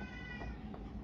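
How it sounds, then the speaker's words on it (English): A cat meowing indoors, a single drawn-out, fairly faint meow close by with a soft tonal wail. "Don't pay attention to the cat."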